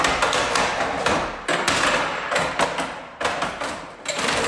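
A cartoon gerbil smashing a deer's cage: a run of loud, close banging and thudding impacts at an irregular pace, each sharp hit followed by brief clattering.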